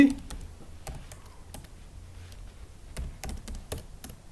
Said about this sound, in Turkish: FTP password. Password'ümü yazdım.